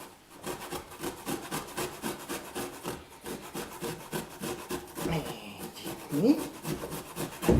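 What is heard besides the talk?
grating food on a hand grater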